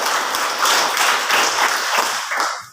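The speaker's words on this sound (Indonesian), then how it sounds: "Tepuk tangan untuk semua dulu." Classroom applause breaks out as a teacher asks the pupils to clap for everyone, a dense burst of many hands clapping together for a few seconds before tapering off.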